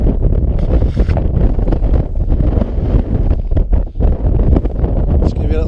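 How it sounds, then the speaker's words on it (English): Strong, gusty wind batters the microphone on a bleak winter hilltop, a loud continuous roar with buffeting surges throughout as tent pegs go in. "Wind's really picked up on the top."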